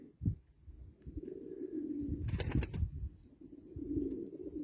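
Pigeons kept as Turkish flying and performing birds coo in low, rolling, repeated phrases, close by, with a brief burst of wing flapping or rustling in the middle.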